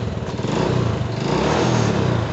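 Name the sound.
Honda Supra motorcycle engine starting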